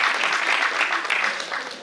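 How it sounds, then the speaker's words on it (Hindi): Enthusiastic applause from an audience at a theatre and honours ceremony, dense and fairly close, steady at first and then tapering off toward the end. "एक बार जोरदार तालियां हो जाए पुनीत वर्मा जी के लिए।"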